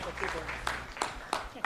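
An audience at a quiz show gives the team a short, scattered round of applause, a few distinct claps standing out over a murmur of voices.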